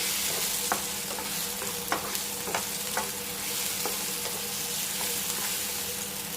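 Halved and quartered ripe plantain pieces sautéing in ghee, a soft continuous sizzle close by, broken by occasional scraping stirs and clinks of a spatula against the pan.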